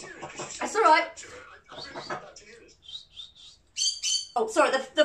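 A voice makes chirpy bird-like calls, and parrots answer with squawks and whistled imitations, close and alternating in short bursts.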